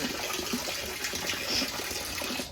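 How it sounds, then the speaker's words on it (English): Running water gushes steadily into a plastic tote holding oven racks, a continuous close splashing fill with no talking. "From there, fill the totes up with water,"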